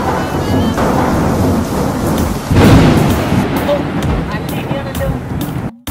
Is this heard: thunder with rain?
yes